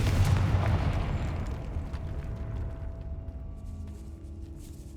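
A Confringo fire spell explodes in the Hogwarts Legacy game inside a decayed catacomb, a heavy boom that rolls off and fades over several seconds, alone with no talk.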